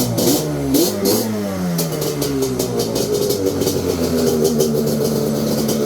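Yamaha Banshee ATV engine fitted with 330 jets, loud and close, revving up and down in a rough, rising-and-falling rasp that runs for several seconds with no talk over it.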